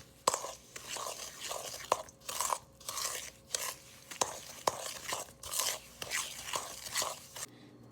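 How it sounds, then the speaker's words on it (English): Brown and white sugar with softened butter are stirred together in a bowl for chocolate chip cookie dough, giving repeated gritty scraping strokes in an uneven rhythm with short pauses and a few sharp knocks, close and fairly quiet. "Now you mix this all together until it's smooth."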